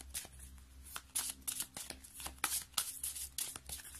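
Tarot cards riffled and shuffled by hand, soft papery bursts and flutters repeating in quick rhythm, close and fairly quiet, with no talking.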